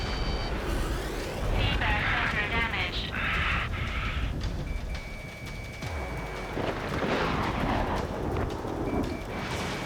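A missile launches and explodes in a flight combat game, with a loud roaring rush and rumbling blasts over continuous jet engine noise, and bursts of higher hiss, all dense and sustained.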